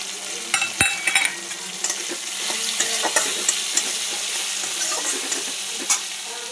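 Tomatoes with ground turmeric, cumin and coriander fry in a pan, a steady sizzle and hiss broken by repeated clinks and scrapes of stirring, close and alone with no talk.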